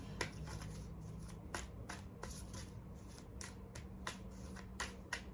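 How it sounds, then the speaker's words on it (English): A deck of tarot cards is riffled and shuffled close by in a steady flurry of soft, papery flicks and snaps, with no talking over it. "Okay, one more shuffle."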